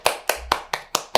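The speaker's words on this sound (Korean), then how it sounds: "일어서서 박수 10번 치고 앉기" Six crisp, evenly spaced hand claps, about four or five per second, from a single person at a lecture, close and loud with no talking.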